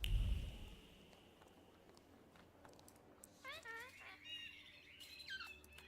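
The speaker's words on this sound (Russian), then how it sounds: "Папуги там сидят" Parrots squawk inside The Thaumaturge video game, a run of sharp, rising chirpy calls entering midway over a low room hum, with faint clicking like keyboard taps scattered throughout.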